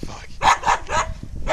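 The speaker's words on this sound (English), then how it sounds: "He's barking really loud." A dog on a chain barks loudly and close by, four sharp barks spaced about a quarter to half a second apart.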